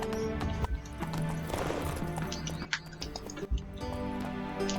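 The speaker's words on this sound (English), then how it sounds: "Just get on the horse." Horse hooves clip-clop in The Witcher III video game, a continuous rhythmic patter of hoofbeats with occasional snorts under game ambience, close and steady throughout.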